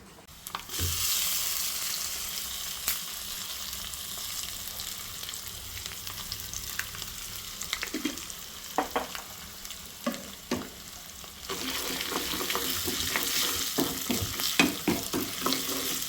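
Mustard seeds, rice, crushed chilli and garlic frying in hot oil, a steady close sizzle with crackles and scattered pops, occasional stirring clinks, louder again near the end.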